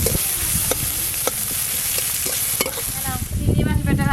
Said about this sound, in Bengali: সরষের তেল, তেলে একটু পেঁয়াজ কুচি দিয়ে ভালো করে ভেজে নেব।